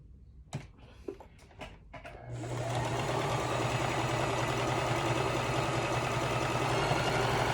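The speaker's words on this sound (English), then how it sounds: "And then sew it along the nose seam." A sewing machine stitches the nose seam of a fabric face mask. It whirs in a steady, close, continuous run, after a few soft clicks and handling taps at the start.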